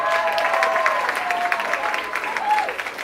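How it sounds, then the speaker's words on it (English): Sustained audience applause after a piece at a school spring band concert. The clapping is fairly loud and continuous, with a voice briefly audible over it. "Yes, you can applaud."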